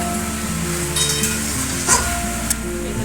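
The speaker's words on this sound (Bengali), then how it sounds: "এবারে মশলা দিয়ে কষাবো" Vegetables for shukto fry in a pan with mustard, cumin and radhuni paste, giving a constant sizzle, a few stirring scrapes and a brief clink of the utensil against the pan.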